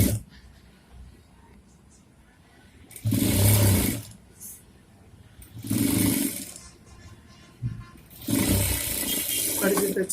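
A sewing machine stitching a folded seam on churidar pants, running in three loud bursts of a few seconds each separated by pauses, close by.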